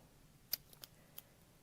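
Scissors cutting through the steek of a knitted sweater: a few short, quiet snips close by, in a near-silent room.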